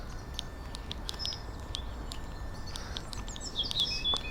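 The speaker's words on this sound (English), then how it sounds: "Lots of birds. I hope the mic's picking that up." Birds singing on the University of York campus in early summer, faint scattered chirps and short whistled calls over a soft, steady outdoor background, a bit stronger toward the end, with no one speaking.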